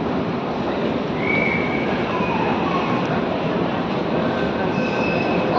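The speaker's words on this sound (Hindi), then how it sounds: "ये मेट्रो यहाँ से हम लोग लेते हैं" A metro train rumbles steadily through a station, loud and close, with thin wheel squeals rising over the continuous roar and no talking.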